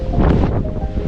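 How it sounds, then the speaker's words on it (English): Strong wind roars across a mountain hiking trail near a lake, a loud, steady rush buffeting the microphone for about a second. "Wind's really picking up now."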